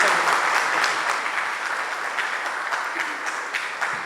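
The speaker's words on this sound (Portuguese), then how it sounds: "então palmas para o pastor" Congregation applauding the pastor at a Sunday church service: dense, steady clapping from many hands in a reverberant hall, loud and continuous throughout with no talk over it.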